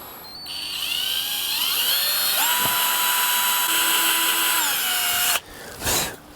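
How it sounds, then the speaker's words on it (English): A power drill with a 2mm bit whines loudly and steadily at high pitch while drilling screw holes in a guitar body, its tone dropping and rising as the bit bites, then cuts off abruptly near the end. "go ahead and drill the 2 holes in here for my locking nut mounting screws"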